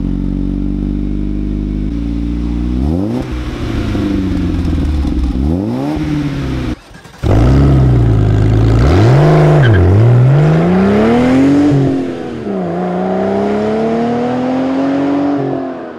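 A VW Lupo 1.8T GT30 turbocharged engine, exhaust removed, revs loudly and up close: steady idle, then repeated throttle blips rising and falling, a brief cut near the middle, followed by longer sweeping revs.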